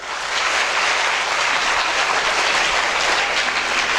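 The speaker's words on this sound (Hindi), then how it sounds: "इनके लिए इतनी ज़ोरदार तालियां होना चाहिए कि हाल गूंज उछड़े।" Loud, dense applause fills an awards hall at an academy ceremony honouring top rankers, a thick continuous roar of many hands clapping at once, strong and unbroken for the whole stretch with no speech.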